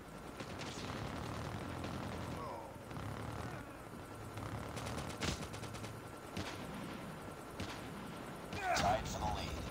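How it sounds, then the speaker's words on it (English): Helicopter rotor whir from a stealth chopper killstreak in Call of Duty Mobile, mixed with bursts of gunfire and booms in a busy match, game announcer voice over the top. "Stealth chopper inbound."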